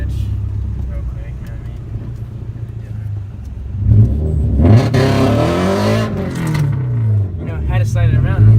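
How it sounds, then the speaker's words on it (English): Subaru BRZ running on E85 fuel in a 0 to 60 run, its engine droning at idle and then revving hard through rising gear pulls, loud and close inside the car, with people talking over it. "we're gonna try to do the 0 to 60 right here"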